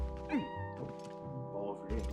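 Cats meow in Zelda: Twilight Princess HD, a short rising meow and thumping game sounds over steady background music, with people talking over it.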